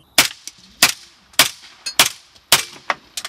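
Small arms gunfire cracks out at a Ukrainian checkpoint near Mayorsk, a loud close series of single sharp shots in an uneven rhythm, roughly eight reports with brief echoes.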